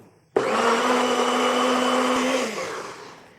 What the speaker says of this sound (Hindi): रस्क बिस्किट और दूध ग्राइंड कर लेंगे।